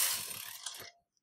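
A single-bed knitting machine carriage is pushed across a row, giving a short rattling mechanical slide that stops abruptly after about a second.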